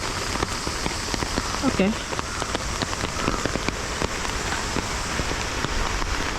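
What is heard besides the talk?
rain falling at a Buddhist shrine in Tokyo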